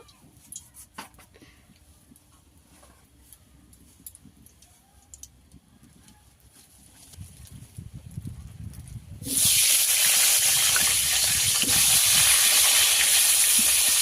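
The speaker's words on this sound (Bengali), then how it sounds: "সব ফুলকপিগুলো আমি ভেজে নেব।" Cauliflower pieces drop into hot oil left from frying lentil bori, and a sudden loud, steady sizzle bursts in partway through, replacing quiet kitchen clatter and holding strong to the end.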